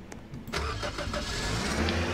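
A car engine in the Roblox game Lumber Tycoon 2 starts with a short crank, then settles into a steady mid-pitched running drone with slight revving, alone without talk.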